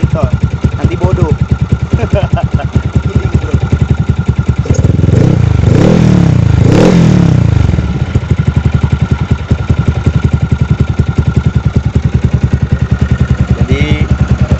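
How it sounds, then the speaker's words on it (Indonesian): A Yamaha XMAX scooter fitted with an aftermarket exhaust idles with a steady low burble, briefly revving louder in the middle before settling back to a quiet, mellow idle, with someone talking over it. "knalpot ini sopan, suaranya adem, kalem"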